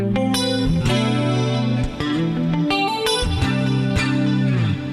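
An electric guitar through an acoustic-style clean preset strums bright, ringing chords with sharp attacks and sustained notes, played close and loud with no voices.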